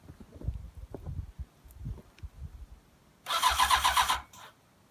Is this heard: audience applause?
no